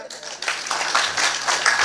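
Scattered clapping from a kirtan audience in a village gathering, a brief burst of hand claps that builds and continues steadily at moderate loudness with some background voices.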